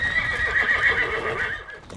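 A horse whinnies loudly and close by at feeding time in camp, a long wavering neigh with hooves clopping softly underneath.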